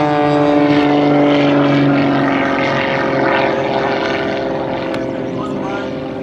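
The propeller engine of a stunt aircraft at an air show makes a loud, droning buzz with a wavering pitch that slowly fades as the plane moves away.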